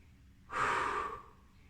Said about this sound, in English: And just breathe here for 2 breaths.